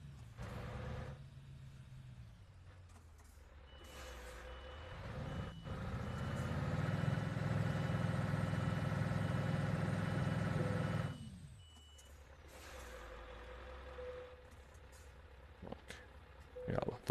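An Iraqi Scania truck's diesel engine idles at a steady low rumble that swells for several seconds and then drops away, with faint beeps and clicks around it.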